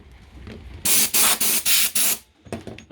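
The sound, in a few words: air hissing from Parkside PKO24B2 air compressor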